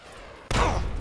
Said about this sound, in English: Well, it's friendly, but they're shooting at us.